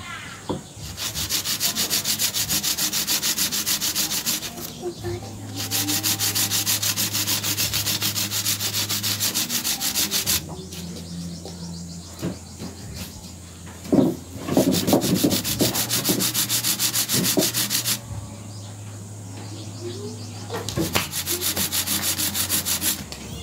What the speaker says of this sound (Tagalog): Kung wala kayong liha, pwede na yan, simento